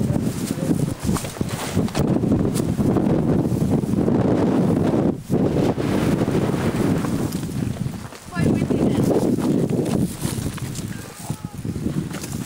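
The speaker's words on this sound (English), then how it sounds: "the lower we get, the more we get caught in the wind currents" Strong wind blows across the Great Wall at Huanghuacheng, a continuous loud roar and microphone buffeting with gusty swells and two brief lulls, while people talk faintly underneath.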